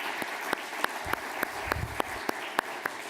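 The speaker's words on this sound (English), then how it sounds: "I would especially like to give a big applause to Mayor of Sarajevo" Sparse, evenly spaced claps ring out faintly in a conference hall at the Ljubljana Forum as the Mayor of Sarajevo is welcomed, a thin patter rather than full applause.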